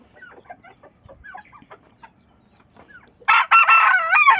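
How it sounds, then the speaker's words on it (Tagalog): A rooster crows loudly and close by near the end, after a stretch of faint, scattered bird chirps and quiet background sounds. "Tilaok ni Mistizong Usiw"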